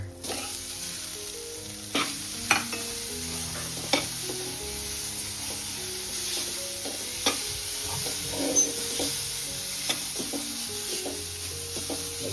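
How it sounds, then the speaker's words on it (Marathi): Poppy seeds fry in ghee with a continuous soft sizzle, and a spoon knocks and scrapes against the pan at irregular moments, close by and with no talking. "आता आपण खसखस टाकू मस्त. ते पण मस्त तुपामध्ये फ्राय करू"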